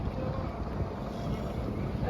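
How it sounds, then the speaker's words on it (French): Gusty wind buffets the microphone in a steady low rumble for a couple of seconds, with no speech. "Oh, il y a du vent là."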